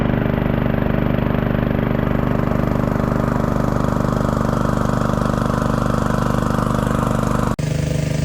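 A gold dredge engine runs loud and steady at a creek, its exhaust a dense continuous drone with a fast regular pulse, briefly cut by a sharp knock near the end.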